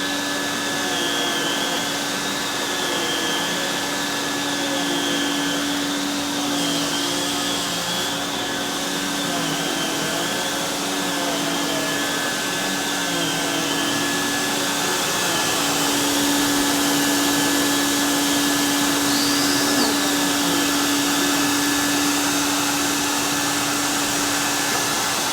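A vacuum cleaner with a power nozzle runs steadily and loudly throughout, a constant motor whine with a sustained hum, no voices over it.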